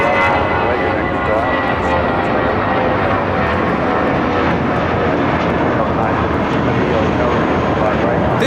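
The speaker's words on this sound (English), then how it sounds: "This is Spirit Airlines 462 taking off to New Orleans on an A320." A Spirit Airlines Airbus A320 bound for New Orleans takes off at LAX, a loud, steady engine roar that holds without letup, with voices talking over it.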